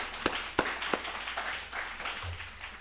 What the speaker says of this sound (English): Let's give a big round of applause to the guys back there.